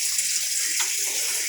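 A Sharp automatic washing machine fills with water for its rinse cycle, a steady hissing gush of water streaming into the drum without a break, close and fairly loud.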